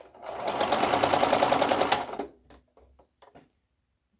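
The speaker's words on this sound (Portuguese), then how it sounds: "eu vou precisar fazer a overlock aqui" An overlock sewing machine stitches a dress, running in a fast, even whirring burst for about two seconds, then stopping, followed by a few soft clicks and handling sounds.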